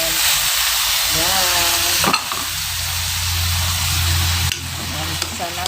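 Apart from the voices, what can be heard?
marinated chicken sautéing in a pan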